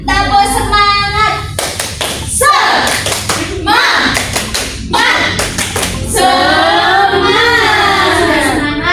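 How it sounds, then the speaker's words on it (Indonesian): A fourth-grade Indonesian classroom does a rhythmic spirit clap: loud, patterned bursts of many hands clapping together, alternating with children's voices chanting along. "Ya udah kita tepuk semangat dulu ya"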